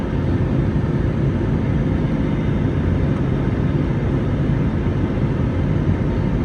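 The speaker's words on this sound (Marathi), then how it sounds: "काहीच ढगात घुसलाय बघा आता विमान" A steady, loud rumble of airliner cabin noise fills the space as the plane cruises at 38,000 feet through cloud. The even roar holds without a break and no one speaks.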